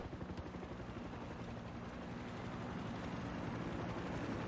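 A helicopter in the video game Far Cry 6 drones with a faint, steady rotor thrum and a broad engine hiss that holds constant throughout, with no voices.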